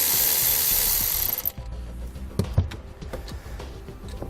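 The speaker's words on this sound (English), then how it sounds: "we'll grab a 13mm socket. We're going to remove the nut that's on the positive post" A ratchet with a 13mm socket loosens the nut on a vehicle battery's positive post during a trailer tail light converter install, giving a loud steady whir of rapid pawl clicks that stops, followed by a few sparse metallic taps close by.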